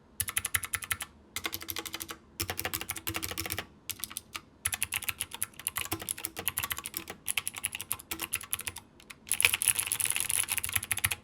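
Steady bursts of typing on a mechanical keyboard with standard mechanical switches and a slightly hollow tone, close and distinct, with short pauses between runs of rapid keystrokes.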